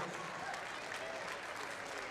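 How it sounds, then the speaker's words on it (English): Audience applause for a middle school robotics team at a robot competition tournament, a steady wash of clapping from a crowd filling the whole moment at moderate distance. "Give a round of applause for the Parker Middle School crew."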